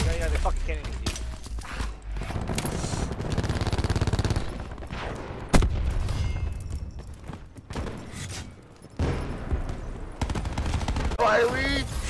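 Shotgun blasts ring out in Call of Duty Black Ops 4 as several heavy, separated shots amid dense battle noise, with players talking over the action.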